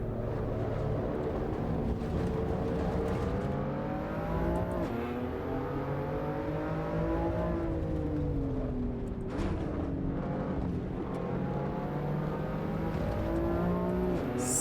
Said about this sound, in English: Oh man, there's a lot of cars around this circuit now.